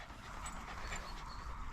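A small dog pants rapidly and whimpers on a morning walk outdoors, a steady breathy rhythm over a noisy background, faint and without talking.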